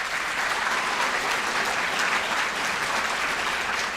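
Graduation crowd at Southern Fulton High School giving steady, sustained applause for the trap shooting team, a dense even wash of clapping throughout with no talk over it.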